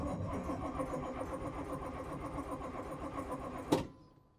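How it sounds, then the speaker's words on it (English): A 1981 International diesel truck engine cranks over steadily with a rapid, rhythmic starter churn for about four seconds, ending in a brief louder clunk before falling quiet without catching. "let's just crank her over and see if she wants to start"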